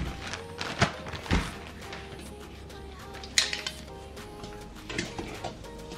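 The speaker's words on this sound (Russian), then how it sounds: "Перемешиваем и полностью растворяем соль." Glycerin and salt being stirred into slightly warm water in a container, with a few sharp clinks and knocks of a utensil against the container over a steady faint background.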